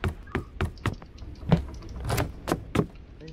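Door mechanisms in a video game: a run of sharp clicks, knocks and latch clatters taps out irregularly at close range, followed by a brief sliding, creaking sweep as the door is worked open.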